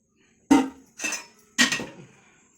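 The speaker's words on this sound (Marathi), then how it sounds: "पहिलं कढई ठेवली गॅसवरती, तसं तेल टाकणार" A metal wok is set down on a gas stove with three sharp clanks, each ringing briefly before fading, in a quiet room.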